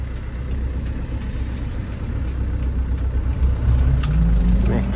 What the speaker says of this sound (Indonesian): kita langsung gas lagi teman-teman